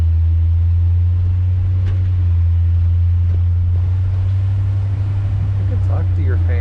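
A 1966 Ford Galaxie 500 convertible with no front grille, bumper or lights rolls along, its steady low engine drone and road rumble continuous beneath open-air wind buffeting, with people talking over it.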